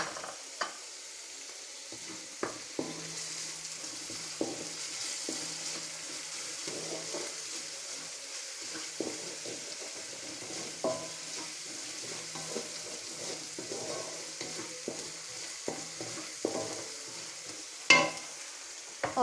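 Ginger, garlic and green chili paste sizzles and fries in browned onions for chicken karahi, with occasional stirring scrapes and soft clinks, steady and moderately quiet with no talking.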